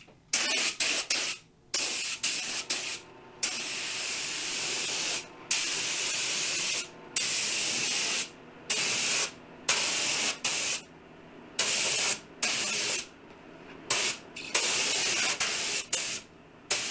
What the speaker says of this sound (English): Now I'm going to put 1 coat of primer, followed by 2 coats of paint and 3 coats of pre-cat clear.